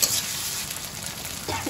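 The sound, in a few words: onion frying with ginger, garlic and green chili paste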